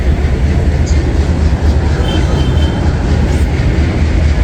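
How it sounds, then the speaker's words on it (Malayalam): A train rolls into a busy station on a route toward Hubballi, a loud continuous rumble of wagons with faint wheel squeal and clatter, steady throughout with no clear speech. "ട്രെയിൻ വന്നു."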